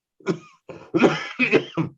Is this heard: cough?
yes